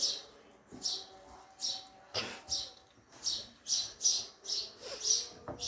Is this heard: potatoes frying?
no